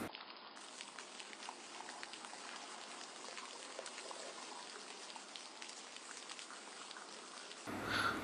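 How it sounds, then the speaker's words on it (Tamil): Heavy rain falls during an early-morning outing, a dense, steady patter of drops that stays even and fairly faint throughout, with a brief louder rustle at the very end. "என்ன பெரிய ப்ராப்ளம் அப்படின்னா மழை பெய்யுது."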